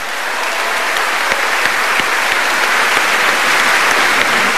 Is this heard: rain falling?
no